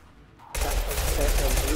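A firefight in the video game Mass Effect 2 Legendary Edition erupts after a brief quiet moment, with loud sustained rapid gunfire and bursts layered together, close and continuous.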